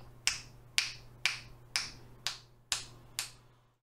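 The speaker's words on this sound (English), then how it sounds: "depending on how loud I snap, it's going to eventually start breaking through the gate." Seven crisp finger snaps at an even, steady pace, each cut off sharply as a noise gate closes between them, close and alone against near silence.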